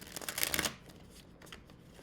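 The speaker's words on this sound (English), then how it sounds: "These cards are extremely hard to shuffle" Thick hardback tarot cards are shuffled in one quick riffling burst of papery flutter, close and soft, then fade to faint handling rustles.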